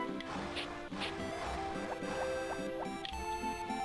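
Crops being watered in the video game Harvest Moon: Friends of Mineral Town, a few soft splashing pours from a watering can over steady game music, with no talking.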